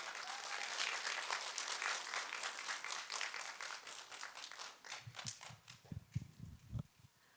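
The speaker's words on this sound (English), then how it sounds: "Can we welcome her with a big round of applause," Audience applause welcomes a guest speaker to a fifth-grade elementary school event, a dense steady clapping that fills the room for about five seconds, then gives way to scattered footsteps and light thumps as the speaker walks up.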